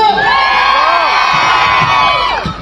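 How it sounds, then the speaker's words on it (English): Loud sustained cheering from a large crowd full of children's shouts and whoops, anticipating fireworks at a Newport Christmas countdown event, tapering slightly at the end. "Who's excited by seeing some fireworks?"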